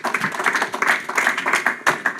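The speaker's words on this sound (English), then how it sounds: "Keep that applause going, ladies and gentlemen" Lively clapping from a debate fundraiser audience for the first speaker of the negative team, close and fairly loud, with uneven bursts and pulses of applause running throughout without talk.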